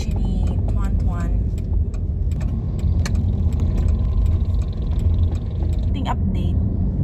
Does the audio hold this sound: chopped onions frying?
no